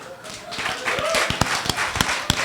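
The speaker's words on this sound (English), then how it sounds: "Well, you really are a whore for applause," An audience at a panel on the film and entertainment business breaks into applause: a dense, fairly loud patter of many hands with a few sharper individual claps standing out.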